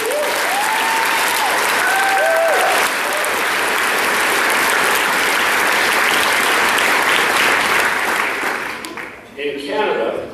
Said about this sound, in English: Yeah, let's clap for that one.